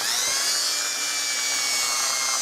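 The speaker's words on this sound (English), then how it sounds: "I'm going to engrave a little point" A small power engraving tool marks a point on a Mauser custom rifle gun stock strip cap, a steady high-pitched whine running continuously, close and fairly loud.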